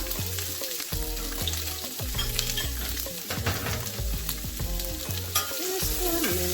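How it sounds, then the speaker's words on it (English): Green bell peppers and sweet onion sizzle steadily in a hot pan, with the crackle of frying broken by stirring scrapes and clatter, close and continuous with no talking. "I'm just going to saute these just for a minute here"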